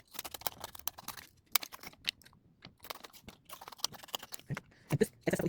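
Scissors cut away excess sublimation paper in a series of close, crisp snips and crunchy paper rustles, irregularly spaced with short gaps between them.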